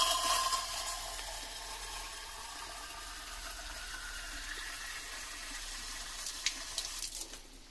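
Water gushes from a valve fitted ahead of a Jalamithra organic natural water filter, a steady, even rush of flowing liquid heard close up with no one speaking.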